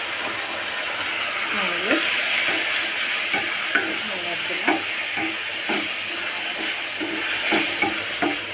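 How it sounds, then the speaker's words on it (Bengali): Browned onion and garlic sizzle steadily in hot oil for a vegetable dish, a loud close frying hiss with occasional stirring scrapes throughout. "এখন কিন্তু আমি এটাকে বাগার দিব"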